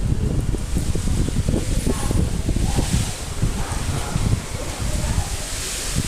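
Strong outdoor wind buffets the microphone in continuous, uneven low rumbling gusts, with a faint airy hiss above and no pauses.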